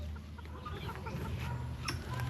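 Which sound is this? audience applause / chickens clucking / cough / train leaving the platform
chickens clucking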